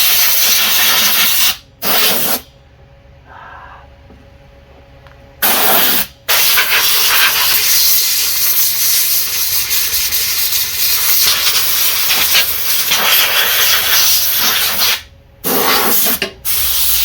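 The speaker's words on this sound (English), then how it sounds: "Get an air hose. You always want to blow off some of the debris." Air hose blasting debris off a Toro engine, with loud close bursts of hissing compressed air that run several seconds each, separated by short silent gaps, and with fluttering and rushing where the jet strikes parts.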